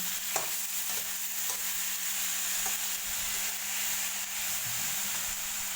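Broccoli and minced pork stir-fried in a pan, giving a steady close sizzle with scraping stirs and a few sharper clatters of the utensil against the pan.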